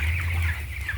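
Meat chickens cluck steadily in a pen, a dense, close flock murmur that stays at a constant level throughout, with no talking.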